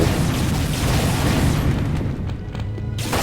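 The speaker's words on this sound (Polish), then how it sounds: "I to jest wielki spaślak, który strzela rakietami. Całe szczęście te rakiety nie wybuchają zbyt mocno" Rockets explode in the video game Unreal, fired by a large rocket-launching monster. The blasts are dense, continuous and loud, with a rumbling low end, and the roar eases briefly before returning.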